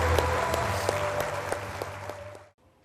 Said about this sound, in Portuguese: Por favor, os seus aplausos para esse atleta extraordinário.